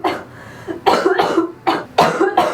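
A woman coughs in a short run of harsh, close bursts, three or four coughs in quick succession with brief gaps between, fairly loud and with no talking over them.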